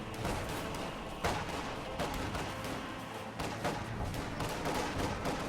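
Bursts of gunfire aimed at grenadier squads in a war video game, scattered shots and volleys at a fairly low level over a constant battle rumble.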